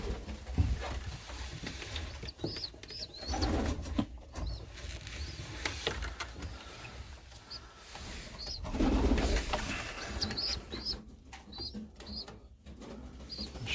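Pigeons coo softly and repeatedly inside a loft, with rustling and shuffling of birds throughout and a few louder bursts of movement.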